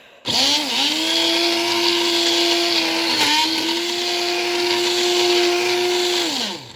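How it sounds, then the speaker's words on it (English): An immersion blender purées hot, boiled tomato pizza sauce in a single loud, steady whine that holds for about six seconds before winding down, with no talk. "I am going to use the immersion blender until this is nice and smooth"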